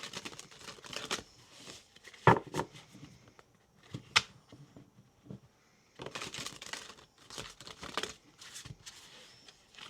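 A tarot card deck being shuffled by hand, several crisp bursts of riffling and card slaps separated by short pauses, close and fairly quiet.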